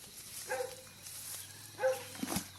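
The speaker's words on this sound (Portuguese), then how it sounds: "Meu cachorro tá latindo" A dog barks a couple of times at a distance, with two faint, brief bursts separated by quiet rural background hum.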